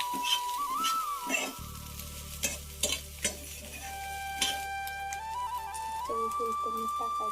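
Okra frying in a pan with green chillies, stirred with a steady sizzle and a few sharp scrapes and clinks, while a voice talks over it.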